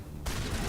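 Gunfire in the Mass Effect Legendary Edition game bursts in abruptly and carries on as a dense, continuous rattle of shots for the rest of the short moment.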